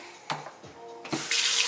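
Tap water runs into a container of soaking almonds, a close, steady rush of pouring water near the end after a few brief clatters of handling.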